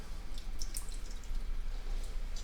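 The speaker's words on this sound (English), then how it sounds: "take a little bit of water and put a little bit of water on the outside of this rim" Water dribbled onto the outside rim of a pan while making sardine fritters, small irregular drips and trickles over a low steady hum, fairly quiet and close.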